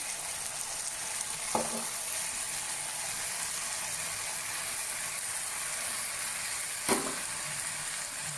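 Boiled rice is mixed into masala on a hot tawa for Mumbai-style tawa pulao, making a continuous close sizzle. Two distinct clanks of a spoon against the pan stand out, and no one speaks.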